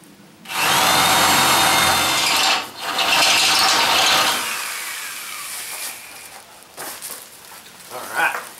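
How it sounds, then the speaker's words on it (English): Power drill with a step bit boring through metal on a 1967 Ford F100 from an eighth-inch pilot hole, a loud whining grind in two long bursts separated by a brief pause, followed by quieter clicks and handling noise. "I'm going right with the step bit right from the 8th inch hole"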